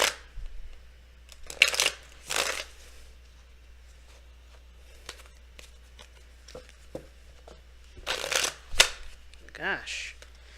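Tarot cards shuffled by hand in several brisk riffling bursts, close and crisp, separated by quieter handling and light tapping, with a voice speaking briefly between shuffles.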